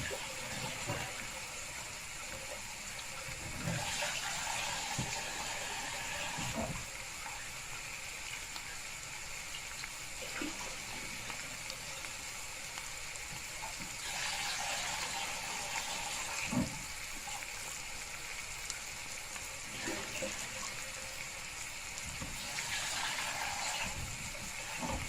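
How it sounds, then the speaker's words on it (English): Running lukewarm tap water pours into a pan as rice is rinsed for a homemade veg curry, a steady gushing wash with occasional splashes and clinks near at hand. "I'm just rinsing that rice."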